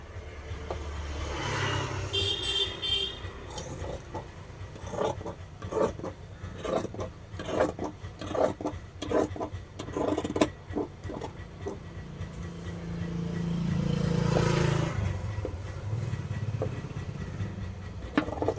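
Scissors snip through rose-coloured fabric while cutting out a piece for a nighty neckline, a close run of short crisp cuts and rasping strokes, followed by a longer, smoother sliding rub of cloth near the end.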